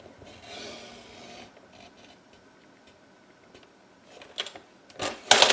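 The blade of The Works All In One paper trimmer slides along a sheet being cut down to a 2-inch mark, a soft close scraping rasp, then sharper clicks and a louder rustle near the end.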